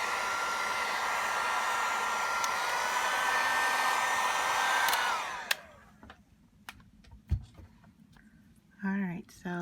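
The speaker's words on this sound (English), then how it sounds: "I think I'm going to try a little bit of a heat gun" A heat gun drying ink on artwork blows with a loud, steady whooshing hum for about five seconds, then switches off, leaving quiet clicks and brief faint voice sounds.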